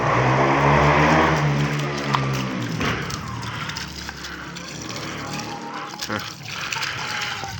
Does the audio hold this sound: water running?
yes